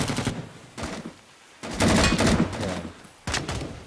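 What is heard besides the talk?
artillery barrage in the video game Cold Waters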